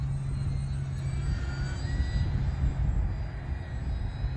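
An Arrows RC Bearcat electric model airplane flies with landing flaps down, its motor giving a steady, fairly loud hum that holds level throughout with no talking.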